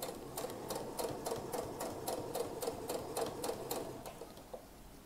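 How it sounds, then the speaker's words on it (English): A sewing machine stitches a backstitch on a wedding dress waistband, a quiet rapid run of evenly spaced mechanical clicks that slows and stops near the end, with no voices. "Okay, well, screw it. I'm doing a backstitch."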